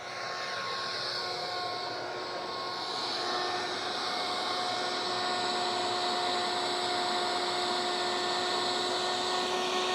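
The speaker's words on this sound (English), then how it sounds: "So now with that shop vac running, we are going to take this filter off with the drain pan under there" Shop vac running steadily beside a tractor during a hydraulic filter change, a loud, even whine with a constant motor hum that stays unchanged and alone throughout.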